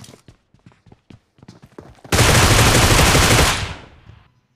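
BGMI gunfire: several short, separate shots crack first, then a loud, sustained burst of automatic fire lasts over a second before cutting off into quiet.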